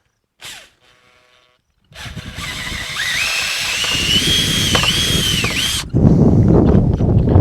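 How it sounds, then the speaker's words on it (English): A power drill whirs steadily for several seconds, re-drilling a hole in a wooden goat milking stand, its pitch wavering as it bites through, loud and close, then cuts off into rattling noise. "I'm just going to re-drill that hole through"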